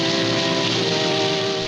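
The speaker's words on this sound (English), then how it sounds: "That is a great shot with the rain." Steady rain falling in a 1944 black-and-white film scene, a dense continuous hiss of downpour with a faint tonal hum mixed underneath, loud and unbroken.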